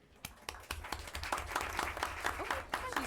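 Audience applause at a school board meeting, a few seconds of scattered clapping that builds into a fuller, steady patter from a nearby crowd in a meeting room.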